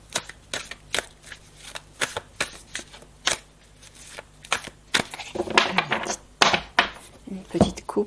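A tarot card deck is cut and handled up close, giving a series of crisp card snaps and slaps at an uneven pace. The sounds grow busier and more rustling toward the end.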